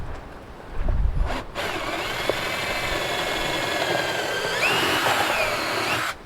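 A power drill bores holes through a sluice mat, a close, steady whining motor that rises in pitch near the end, after a brief louder clunk at the start.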